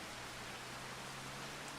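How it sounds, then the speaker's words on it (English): Steady broadband hiss of rain falling in the Farming Simulator 25 game world, a constant soft wash with a faint low hum beneath, no other sounds standing out. "Alright, so it is raining, but the forecast is showing sunlight."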